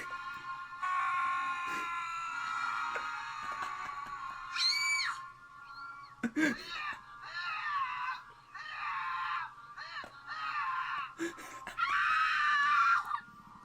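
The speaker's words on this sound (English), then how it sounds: "That Wilhelm scream certainly puts the fun in funeral" A Wilhelm scream sound effect, a string of shrill, wavering cries and yelps arriving in several separate bursts over a faint low hum, fairly quiet overall.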